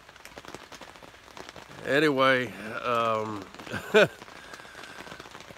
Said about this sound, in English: And right here, it's raining.